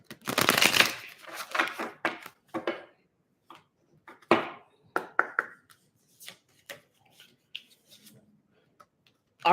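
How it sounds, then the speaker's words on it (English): Tarot cards being riffled and shuffled in several quick bursts, loudest at the start, then softer snaps and taps spaced out with quiet gaps. "2 more shuffles, they said."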